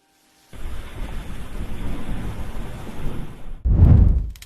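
Heavy thunderstorm: steady loud rain roar with a deep rumbling thunder clap bursting in near the end, alone without voices.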